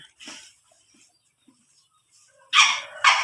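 A dog whimpers in a few short, high-pitched bursts: one faint cry early on, then two louder whines close together at the end, with quiet pauses between.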